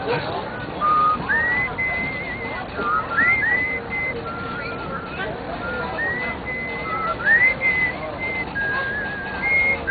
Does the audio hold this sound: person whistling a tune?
yes